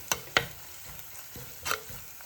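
Chilli and spices being stirred into hot oil for a Kerala sardine and fish curry, with faint sizzling and a few sharp spoon scrapes against the pan, close and quiet.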